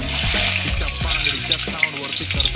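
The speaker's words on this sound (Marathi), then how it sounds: "कांद्याला पण चांगलं परतून घेऊया." Chopped onion sautéing in an old, blackened kadhai, a broad steady sizzle and hiss with faint stirring scrapes, close and continuous with no talk.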